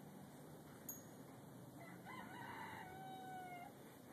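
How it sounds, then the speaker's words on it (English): A rooster crows in the distance, one long drawn-out call rising and trailing off over a steady outdoor background hiss. "we have a rooster that doesn't know what day is and what night is"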